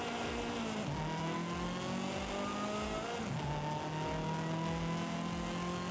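A Toyota MR2 engine in a driving video game drones and revs steadily, its pitch dipping at two gear shifts and climbing again, loud and continuous throughout with no voices.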